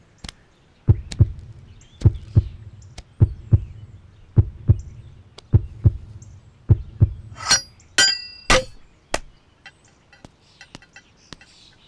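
Heartbeat sound effect in a Tamil comedy, loud paired thumps in a steady rhythm, followed by a few sharp clinking and rattling hits toward the end.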